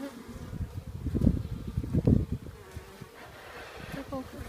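Honeybees in a topbar beehive during an inspection buzz close and busy, swelling in bursts and then fading to a lighter steady hum, with no talk over them.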